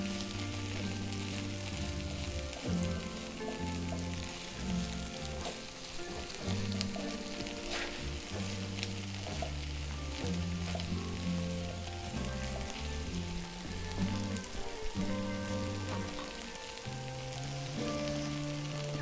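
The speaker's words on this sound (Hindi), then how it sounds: "आप देख सकते हैं कि कैसे वो प्याज जो है वो ऑलमोस्ट हो चुका है" Onions sizzle steadily in a hot pan while fried okra (bhindi) is being made. The frying is a continuous, fine crackle with no pauses, heard up close and quiet, with nobody talking.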